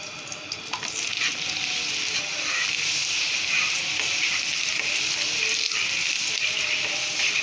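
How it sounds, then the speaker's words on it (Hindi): Aloo paratha frying in ghee on a hot griddle gives a steady, loud, close sizzle with a bright hiss throughout, and a few faint crackles rise over the constant frying. "अब हम इसके ऊपर घी डालेंगे।"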